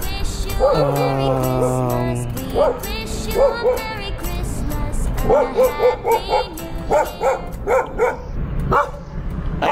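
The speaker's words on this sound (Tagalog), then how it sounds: "Wait lang may mga aso eh." Several dogs bark and yip close by in quick irregular bursts, with a brief whining note at the start.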